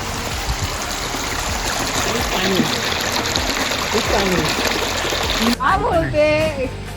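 Water flowing steadily at a temple ghat, a continuous broadband rush under scattered voices, with a splash and livelier talk near the end.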